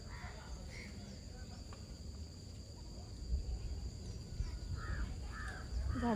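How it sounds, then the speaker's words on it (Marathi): A crow caws from a banyan tree, a few short harsh calls scattered across the stretch, faint and somewhat distant under outdoor background noise, with a person speaking nearby. "कावळा करतो का का दिसत नाही."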